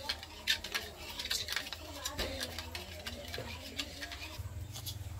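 A spoon stirs sugar into boiled milk in a bowl, giving light clinking taps and scraping against the sides in an irregular rhythm, close and moderately quiet.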